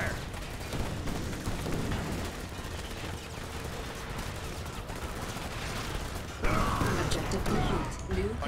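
Gunfire erupts from GDI units opening fire in the real-time strategy game Command & Conquer 3: Tiberium Wars, a steady dense rattle of shots with mechanical clatter, growing louder near the end.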